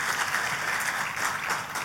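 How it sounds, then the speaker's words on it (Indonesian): Church congregation applauding during a sermon, a dense, continuous wash of many hands clapping at a steady, fairly loud level with no pauses. "Tepuk tangannya pula yang paling meriah buat Tuhan kita."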